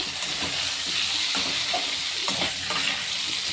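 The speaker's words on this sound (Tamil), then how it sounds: "லைட்டாக அப்படியே வதக்கி விட்டுருங்க" Ivy gourd sautéing with a pounded masala of cumin and black pepper over medium heat: a loud, dense sizzle with the soft scraping of stirring throughout, close up and with no voices.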